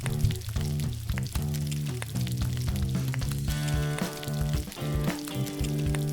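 Hamburger meat frying in a pot for chili, a dense, continuous close-up sizzle and crackle with a steady level throughout, tonal hum underneath, no talking.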